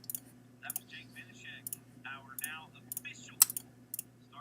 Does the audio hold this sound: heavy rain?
no